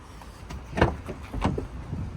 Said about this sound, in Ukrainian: Двері відчиняються під кутом 90 градусів.